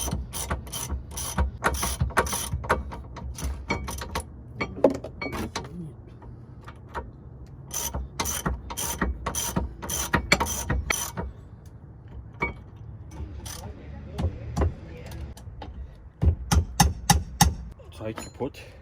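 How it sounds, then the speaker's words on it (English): A spanner ratchets on a 2011 Hyundai Elantra brake caliper in short bursts of sharp, close clicking with pauses between them, while someone speaks in between. "I use spanner to rotate this one."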